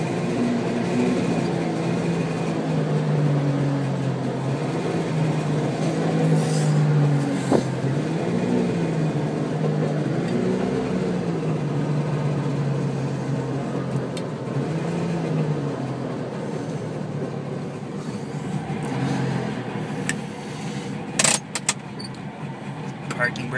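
A 1964 Saab 96 engine idling and running after a cold start, a low continuous drone that rises and falls slightly, with a person talking over it and a few clicks near the end.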